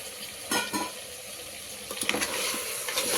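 Tomatoes being stirred into frying masala for mutton curry with methi, giving a soft sizzle and scraping under a watery hiss, with a few louder stirring strokes near the start and end.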